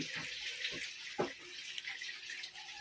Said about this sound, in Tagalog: At lagyan ng kunting